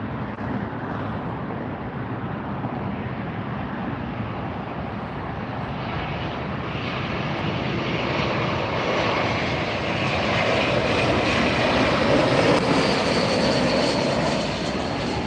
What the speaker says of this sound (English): Here's the flight coming in from DFW